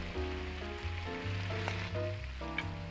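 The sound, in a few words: shrimp frying in clarified butter, video game Cooking Simulator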